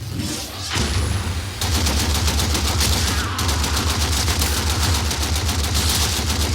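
Rapid gunfire from a basic weapon in the Warframe video game, loud and close, fired in dense automatic bursts with a short pause near the start and a steady rattling rhythm over a low game soundtrack, no talking.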